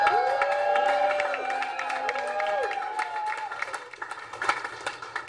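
A live magic show audience at The REC Room breaks into loud cheering, whoops and sustained clapping, the applause fading out over several seconds.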